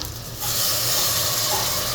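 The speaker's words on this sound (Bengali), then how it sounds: "পানি অ্যাড করে দিব" Water pours into a hot cooking pan of spiced masala, starting as a soft hiss and swelling into a loud, steady rushing sizzle that keeps going.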